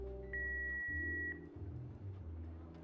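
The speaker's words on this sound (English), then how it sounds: "Please leave a message at the beep" A single steady answering-machine beep from the Jackbox Party Pack game sounds as a thin electronic tone for about a second over low background music.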